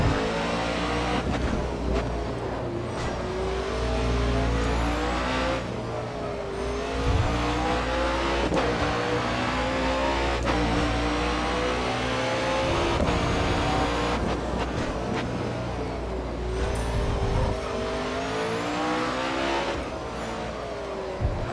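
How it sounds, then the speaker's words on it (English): Race car engines in the Grid Autosport video game scream and rise through the gears during a street challenge, with repeated rev climbs, sharp drops at shifts and occasional tire squeal, loud and continuous without talk. "Now these cars do go fast enough and you do have to brake for that first corner."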